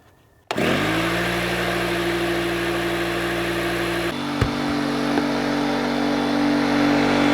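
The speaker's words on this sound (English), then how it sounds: "we're going to see how much of the battery pack it uses to take a 6-gallon air compressor to full 140 PSI" A 6-gallon air compressor kicks on abruptly and runs steadily, building pressure toward 140 PSI, with a loud continuous motor hum and a faint click or two partway through.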